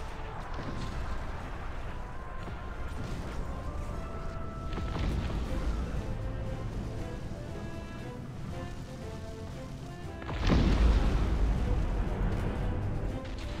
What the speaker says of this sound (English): shoot with the cannons